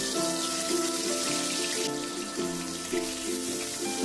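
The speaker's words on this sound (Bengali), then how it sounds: "কড়াতে সর্ষের তেল দিয়ে দিয়েছি তিন চামচ আর তেলটা গরম হয়ে গেলে মাছগুলো একটা একটা করে দিয়ে ভেজে নেব" Fish pieces sizzling in hot mustard oil in a kadai, a steady dense crackle and spatter with a sustained musical tone running underneath throughout.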